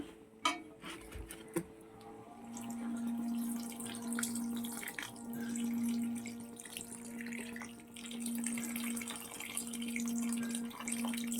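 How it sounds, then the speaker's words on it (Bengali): Water runs steadily into a pan of fish and okra curry with new potatoes, a continuous pouring and splashing sound that carries on for several seconds, with a few sharp clinks of utensils near the start and no talking. "এবার আমি জল দিয়ে দেবো"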